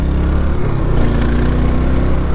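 Yamaha SR 400 motorcycle engine blipped on the throttle while riding, a loud, close, steady single-cylinder thrum with a brief rise in pitch.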